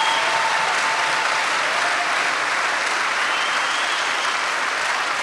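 A rally crowd applauds steadily, a dense, continuous wash of clapping that stays loud and even for the whole stretch with no voices over it.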